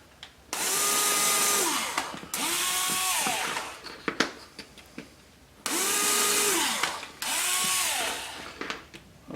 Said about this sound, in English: We're just doing a pilot hole.